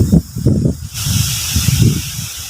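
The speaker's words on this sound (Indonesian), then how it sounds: "kencang sekali ini anginnya." Strong wind at a fishing spot buffets hard and close, a loud continuous roaring hiss with gusty swells and no break.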